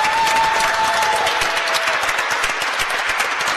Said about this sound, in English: So please applaud the guys from Serbia.